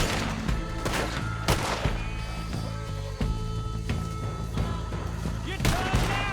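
Gunfire in a Red Dead Redemption 2 shootout, repeated sharp shots cracking over a steady bed of background music and game ambience.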